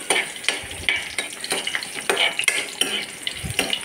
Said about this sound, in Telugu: ఇవి కొంచెం ఫ్రై అవ్వాలండి